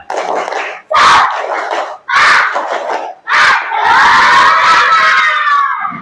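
Schoolchildren in a classroom performing the 'tepuk semangat' clapping chant, several loud rhythmic bursts of group shouting separated by short pauses, ending in a longer sustained shout.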